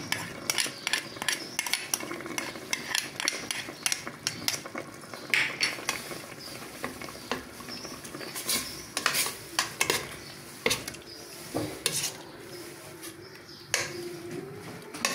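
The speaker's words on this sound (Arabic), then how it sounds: "نخليوها تتقلى. هنا الكرشه راهي تقلات." Tripe frying with tomato and harissa in a pot for an Algerian bakbouka stew, heard as a low background sizzle under frequent clattering spoon and pot knocks and scraping, close and uneven, with no talk.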